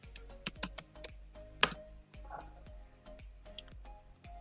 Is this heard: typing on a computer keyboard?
yes